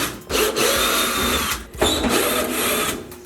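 Power drill with a T20 Torx bit backing screws out of a truck bed, two bursts of high whining motor noise separated by a brief pause, close and loud, with no talking.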